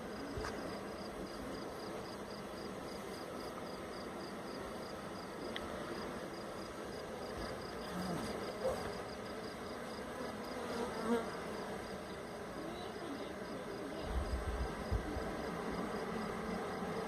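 A honey bee swarm makes a dense, continuous buzz of many insects at moderate distance, steady and low in level with no one speaking.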